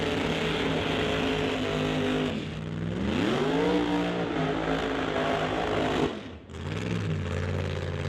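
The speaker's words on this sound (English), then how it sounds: "Firing up for round number 1 of Pro Modified, Tony Moretto." A Pro Modified drag racing car engine fires up and idles loudly nearby, a dense rough rumble with one rise in pitch mid-clip and a brief dip before it settles back to a steady throb.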